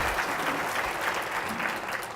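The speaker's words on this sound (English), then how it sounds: "So a round of applause for your leadership" An audience at a children's summit breaks into a sustained round of applause, dense and even clapping filling the hall for a couple of seconds.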